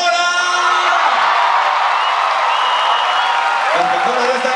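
A large concert crowd at a show with an orchestra and mariachi shouts a name together in loud, sustained, overlapping voices, rising and holding as many people yell at once.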